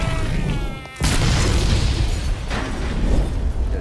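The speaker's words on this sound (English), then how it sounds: "Oh, it's gonna explode." An explosion booms in the Mafia: Definitive Edition video game, one loud broadband blast followed by a rumbling tail and a second surge of noise.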